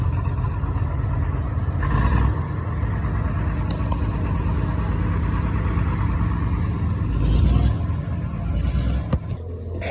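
A 1928 Caterpillar 20 tractor of 20 horsepower at a Warracknabeal Caterpillar centenary event runs steadily nearby, a loud continuous rumbling engine drone with brief surges and no talk.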